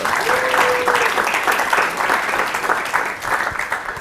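An audience claps at a UC Berkeley startup pitch event, a sustained, dense patter of many hands at close range with a brief tone sounding early on.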